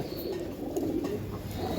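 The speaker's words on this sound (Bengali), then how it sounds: "এখানে অনেক কবুতর আছে" Giribaz pigeons in a loft crowded with birds give soft, low, steady cooing that continues throughout.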